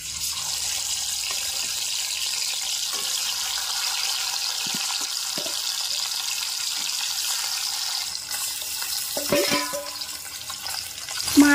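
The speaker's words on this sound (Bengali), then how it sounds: "মাছগুলিকে তেলের উপরে দিয়ে দেব।" Raw hilsa fish pieces coated in salt and turmeric hiss into hot oil with black cumin, a steady close frying sizzle that swells and crackles more sharply near the end.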